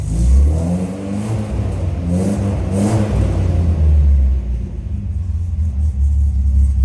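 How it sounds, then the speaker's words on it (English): A 1965 Sunbeam Alpine Series IV convertible's exhaust burbles and revs, rising and falling in a deep throaty rumble, loud and close, with no talking. "Can you get that exhaust note? That's pretty cool."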